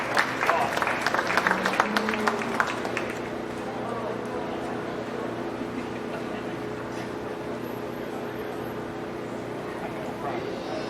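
A crowd at a county fair beef show arena applauds exhibitors and their steers, the clapping loud for about three seconds before fading into a murmuring hall with people talking.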